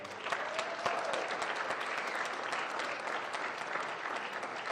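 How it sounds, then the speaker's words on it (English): Council meeting audience applauding newly promoted fire department members, a steady, even wash of clapping that holds at moderate loudness for several seconds with no voices over it. "Let's give them a round of applause, y'all."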